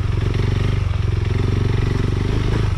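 A KTM 390 Adventure fitted with new suspension and power mods rides a difficult black diamond trail, its engine droning steadily and loud with a rapid even pulse, plus some clatter and scrape from the terrain, and no talking.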